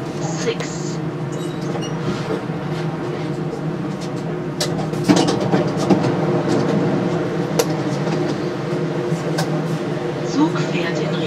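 Düsseldorf airport SkyTrain running toward Terminals A, B and C, a steady rumbling ride with a continuous low drone, rolling noise and occasional clicks and bumps throughout, with a faint voice in the background.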